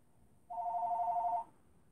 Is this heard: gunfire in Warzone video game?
no